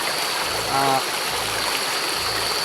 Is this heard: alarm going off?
no